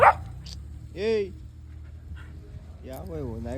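A dog plays excitedly, letting out a short whiny yip, then steady panting, then another longer whimpering yelp, all close by with a low rumble of background noise.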